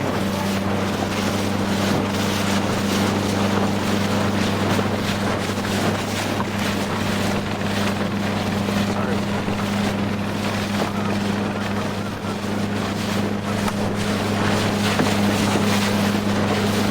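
A boat engine drones continuously with a steady low hum, mixed with wind rushing across the microphone and water noise.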